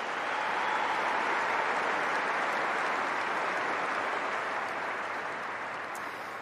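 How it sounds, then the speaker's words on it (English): Audience at a WTA tennis final trophy ceremony giving sustained, dense applause that fills the venue evenly, easing slightly toward the end. "Please, let's give them all a round of applause."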